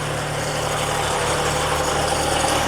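Diesel engine of a hot water jetter trailer running at a steady idle, a constant close drone with a low hum and no talk.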